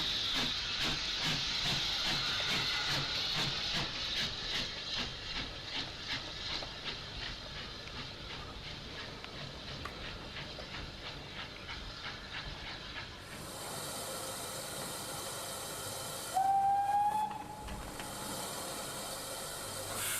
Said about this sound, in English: Our train is eventually shunted into a siding